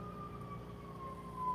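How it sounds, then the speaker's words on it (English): Fire truck sirens wailing in the distance, a faint, thin tone gliding slowly up and down over low traffic rumble, growing slightly louder near the end. "Sounds like fire truck."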